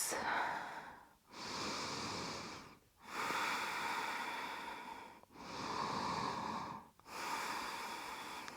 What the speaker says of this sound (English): Last deep breath here.